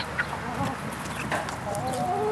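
Chickens cluck and squawk in short, scattered bursts during a tussle as new chicks are integrated into an established flock, fairly close, with a faint drawn-out call near the end.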